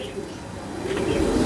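Pigeons kept by a fancier coo softly, low throaty calls that are soft at first and grow louder toward the end, with a voice faintly underneath.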